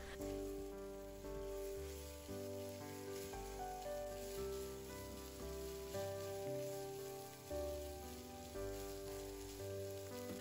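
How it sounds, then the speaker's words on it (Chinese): Okra stir-fried over high heat in a wok with garlic and chili gives a steady, fine sizzle like light rain, running continuously beneath background music. "秋葵加进来之后，我们要开大火，快速的将它翻炒一下，把秋葵炒至入味。"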